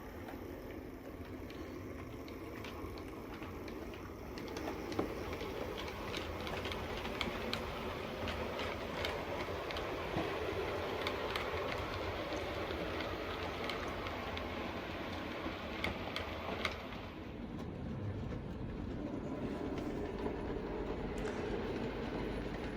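Hornby model LNER K1 steam locomotive running on a layout track, a steady soft rolling rumble with light clicking over rail joints throughout, no voices.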